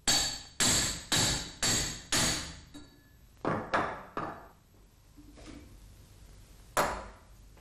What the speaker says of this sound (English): Hit the star ratchet hub into star ratchet housing.